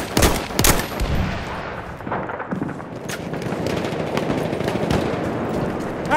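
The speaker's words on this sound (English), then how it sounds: "Enemy machine gun." Sustained enemy machine-gun fire in a Battlefield 1 conquest battle, opening with loud close bursts and then settling into dense, continuous rattling volleys with scattered heavier booms behind them.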